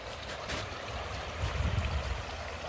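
A creek runs steadily nearby with a continuous broadband wash of flowing water and a slightly stronger surge of low gurgling partway through, no voices.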